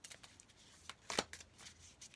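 Quiet riffling and flicking of an oversized oracle card deck being shuffled by hand, a quick run of soft papery snaps with one sharper burst in the middle.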